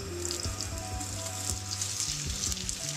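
Sliced potatoes sizzling in olive oil in a pan for a chorizo tortilla, a steady dense crackle and hiss, close and continuous, with faint low clatter beneath.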